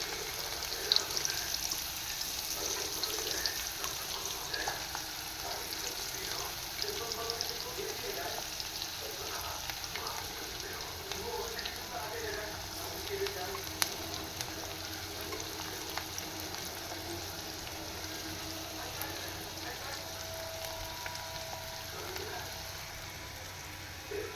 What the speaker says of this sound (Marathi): आपलं तेल तापलेलं आहे. मी अगोदरच तेल तापत ठेवलेलं होतं. आणि आता त्यात घालूया आपण कांदा, कढीपत्ता